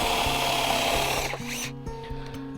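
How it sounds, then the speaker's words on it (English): A power drill whines steadily as it bores into wood, then winds down with a few short bursts of lower motor hum near the end. "I just drill into the wood"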